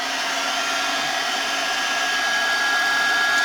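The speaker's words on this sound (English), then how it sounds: "Grab my heat tool and dry this real quick." A handheld heat tool blows steadily to dry stamped ink on a craft project, a loud, even whirring hum with a faint high whine running throughout.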